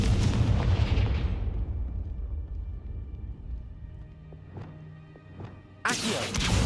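A Confringo spell blast in Hogwarts Legacy erupts loudly at the start and fades into a long decaying rumble, followed by a few sharp impact cracks and another abrupt loud burst near the end.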